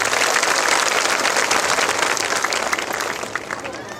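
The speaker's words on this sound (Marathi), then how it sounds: "त्यांच्यासाठी एकदा जोरदार टाळ्या होत्या" A large crowd at an outdoor Buddhist flag day gathering applauds volunteers, loud dense clapping that holds steady then gradually thins and fades toward the end.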